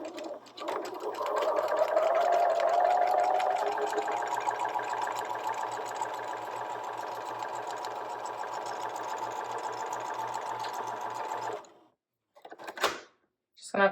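A sewing machine runs steadily for about eleven seconds while stitching the last side of a fabric egg, stopping abruptly before a couple of brief handling noises.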